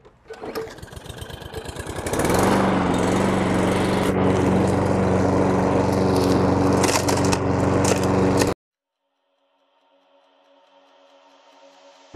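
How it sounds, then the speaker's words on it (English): A Toro lawn mower starts with a rising whir and then runs loudly and steadily as it clears leaves and berries, until it cuts off abruptly and leaves near silence. "going to go ahead and use the Toro starting out, clean up all these leaves and berries"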